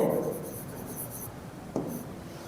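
A teacher writes on a classroom board during a grammar lesson, making scratchy strokes that come in short bursts with pauses between them and a soft voice in the background.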